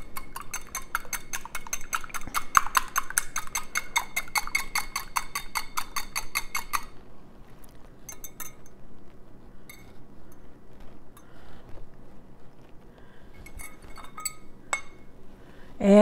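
A fork or small whisk beats latke batter in a bowl, giving a rapid, steady run of bright clinks for about seven seconds, then scattered single taps and clicks with no talking.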